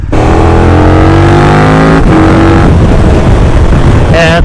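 A motorcycle engine roars close and loud, revving with a strong rising then falling tone, dipping briefly and surging again toward the end.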